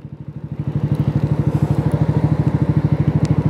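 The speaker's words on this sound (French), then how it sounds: "j'ai récupéré ma moto avec un nouveau pneu" A motorcycle fitted with a new tyre runs close by, its engine firing in a steady, rapid pulsing rhythm that swells up quickly and stays loud throughout, with no talking.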